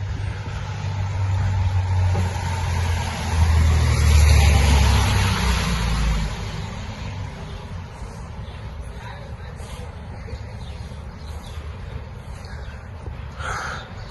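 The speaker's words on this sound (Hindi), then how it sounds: "मेरी गाड़ी आ गई है" A car arrives on a rainy day, its low engine rumble swelling to a peak and then fading into steady background noise, with occasional birdcalls in the distance.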